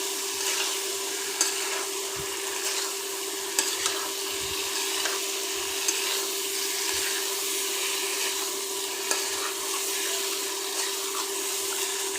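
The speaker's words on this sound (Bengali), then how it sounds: "আগে থেকে সিদ্ধ করে রাখা মিষ্টি কুমড়া মশলাটার সাথে মিষ্টি কুমড়াটা খুব ভালোভাবে মাখিয়ে নিচ্ছি" Boiled sweet pumpkin is mixed into spice paste in a pan, for a pumpkin-and-egg dish. A steady frying hiss runs throughout, broken by a few soft stirring thumps and scrapes, with no talking.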